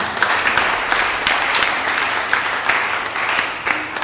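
A church congregation at a Friday worship service bursts into sustained, loud applause, the dense clapping steady for the whole stretch with a few cheers mixed in.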